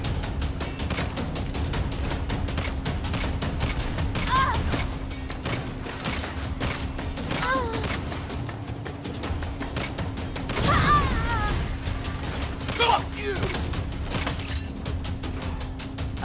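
Turret fire rattles steadily throughout a Saints Row video game mission, mid-distance and continuous, with crashes, a low engine hum and occasional sharp impacts mixed in.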